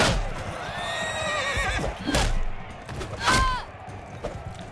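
A horse neighs and whinnies in Mount & Blade 2: Bannerlord, a couple of clear rising-falling cries amid battle noise with sharp hits and hoof clatter, fairly close.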